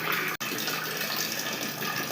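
Water pours steadily from a clay pot, a continuous close trickling wash with one brief break near the start, heard alone without voices.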